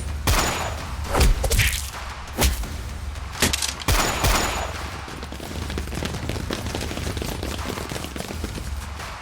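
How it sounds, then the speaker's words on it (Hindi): Gunfire sound effect in a Hindi horror audio drama: several loud, sharp shots in irregular bursts over a rumbling background, with echoing booms that fade toward the end. "अचानक अतुल ने अपनी बंदूक निकाली और फिर"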